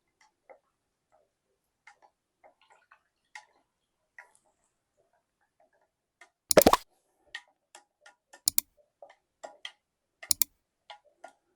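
A spoon stirring honey into blood orange juice makes light, irregular ticking clinks against the glass, faint and sparse, with a few louder sharp knocks in between and quiet gaps.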